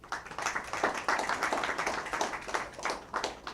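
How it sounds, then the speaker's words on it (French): An audience at an environment ministry certificate ceremony in Haiti applauds, a moderate wash of clapping with uneven pulses, fairly distant and steady for a few seconds. "je vous demande encore une fois d'applaudir"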